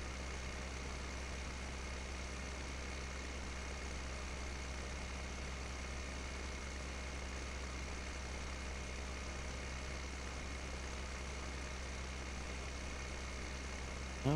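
A tractor engine in Farming Simulator 2015 drones steadily at low pitch, a constant even hum with no breaks or changes for the whole stretch.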